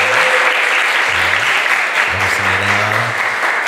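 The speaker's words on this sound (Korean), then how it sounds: "일어나시면 박수 드리겠습니다." Sustained applause from a church congregation during a Sunday worship service, dense and steady throughout, with a few low voices speaking briefly over the clapping.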